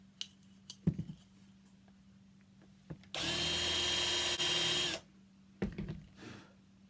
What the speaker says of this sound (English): once you finish drilling that hole